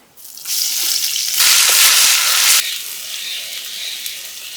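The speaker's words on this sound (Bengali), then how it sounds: "হলুদ মরিচের গুঁড়া মশলাটা ভালোভাবে কষাই নেবো" Fish with turmeric and chili spice paste fries on a clay stove, a steady wet sizzle that swells louder for about a second in the middle, then settles back to a softer hiss.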